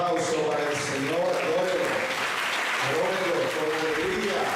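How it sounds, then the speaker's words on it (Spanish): A church congregation applauding during an evangelical sermon. Dense, continuous clapping fills the room, overlapped by speaking voices and loud vocal exclamations. "Fuerte ese aplauso para el Señor."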